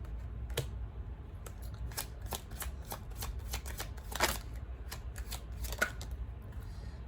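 Tarot cards being shuffled close up, a steady run of soft riffling flicks with a few sharper card snaps, no voices.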